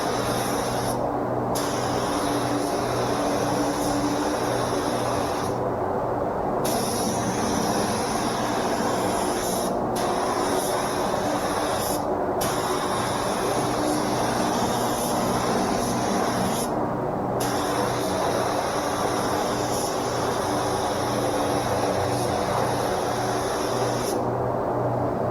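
A VEVOR paint spray gun hisses continuously and loudly, with several brief gaps where the trigger releases before the steady spraying resumes.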